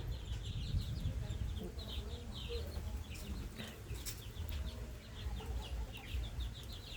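Young Burmese chickens in a free-range pen peep and cluck in a dense, overlapping chorus, with occasional wing flutters over a low rumbling background.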